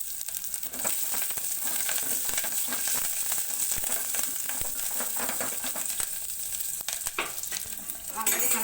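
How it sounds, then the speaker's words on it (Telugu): Onions fry in a pan while being stirred toward brown, giving a steady close sizzle with scraping and stirring clatter throughout and no talk. "బాగా ఉల్లిపాయలు కొద్దిగా బ్రౌన్ కలర్ వచ్చే వరకు, కలర్ చేంజ్ అయ్యే వరకు ఫ్రై చేసుకోవాలి."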